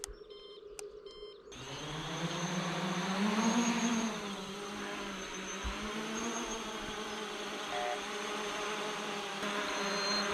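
A steady, buzzing Y6 hexacopter drone hovers nearby, its high whine wavering slightly in pitch, after a brief quieter moment at the start.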